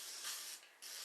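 A short hissing spray bursts twice from a Misto oil pump mister, close by, with a brief pause between the two sprays.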